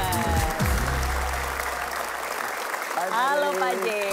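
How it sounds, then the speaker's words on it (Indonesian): Studio audience applause at a televised Indonesian motivational talk show, a dense wash of clapping under a host's voice that fades out as he resumes speaking. "berikan tepuk tangan yang meriah untuk Bapak James Gui"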